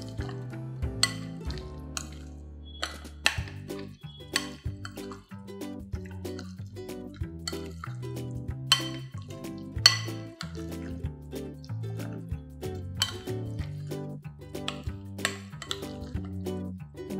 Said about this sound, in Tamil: ஸோ அப்படியே இதை நல்லா அழகாக கலந்து விட்டுடலாம்